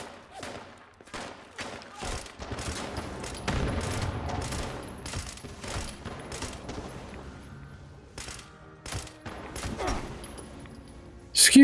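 Sporadic gunfire in Fallout 76, separate sharp shots and short bursts spaced irregularly across the stretch, moderately loud, ending with a louder crack.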